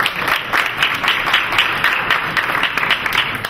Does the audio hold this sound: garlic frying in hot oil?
no